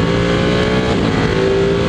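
Cars go by a rider on a Ducati 1199 Panigale R along a freshly paved morning road, heard beneath the bike's steady, close engine and wind roar.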